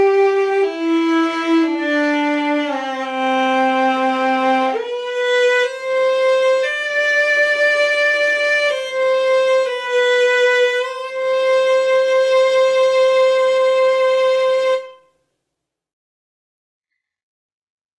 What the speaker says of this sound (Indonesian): biola ini menggunakan alat penggesek untuk menghasilkan suara yang lebih lembut daripada gitar